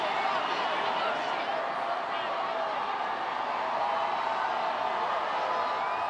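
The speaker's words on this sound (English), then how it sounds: "this parade continues on, making its way towards Civic Center Park, and the crowd is going crazy" Large outdoor crowd at the Denver Nuggets NBA championship parade heading toward Civic Center Park, a steady roar of cheering and shouting that fills the whole stretch without letting up.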